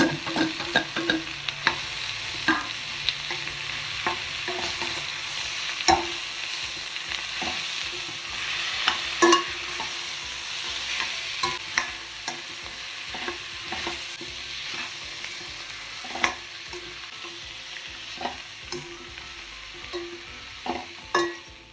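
Onions sizzle steadily in a pan while a utensil stirs and scrapes, producing frequent clicks and taps over a constant frying hiss.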